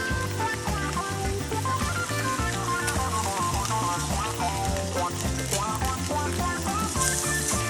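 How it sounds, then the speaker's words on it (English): Squid pieces pan-frying on high heat in olive oil with garlic and thyme: bright, constant sizzling under a steady musical backing, with no speech. "let's pan-fry the squid pieces to finish the dish with"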